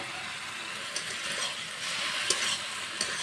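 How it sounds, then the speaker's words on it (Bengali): Fried potatoes are tossed into taro stolons frying in a pan, giving a bright, steady sizzle close by with a few light stirring scrapes. "এখন ভাজা করা আলুগুলো দিয়ে দেব। ভেজে রেখেছি আলুটা দিয়ে দিচ্ছি।"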